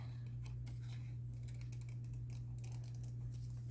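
Scissors cut a printed cardstock Santa figure in a run of quick, crisp snips and paper rustles over a steady low electrical hum, close by and without speech.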